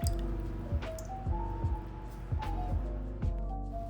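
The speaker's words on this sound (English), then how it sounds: "Bubbles!" Bubbles rising in a liquid: a series of soft, rhythmic gurgling plops and squishy bloops repeating about once a second, close and fairly quiet over a steady low hum.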